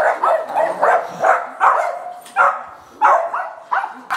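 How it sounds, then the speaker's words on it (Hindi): Several dogs bark in quick repeated bursts in the Yercaud hills, close by, with a few higher yips mixed in and no talking. "सब मेरे को देखकर भौंकने लग गए।"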